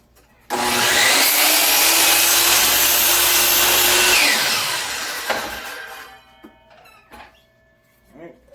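A piece of wood being sawn for a squirrel feeder: a loud burst of power-saw cutting lasting several seconds, then winding down and fading into quieter workshop clatter.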